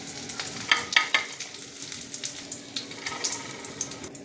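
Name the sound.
chicken frying in oil in a pan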